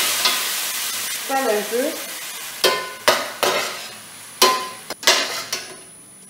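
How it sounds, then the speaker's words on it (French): Onions fry in a pan on a slow home stove for a white bean and sautéed potato dish with chicken meatballs. A soft, steady sizzle runs under brief speech, broken by several sharp scraping knocks as the onions are stirred. "Et là, je mets mes oignons."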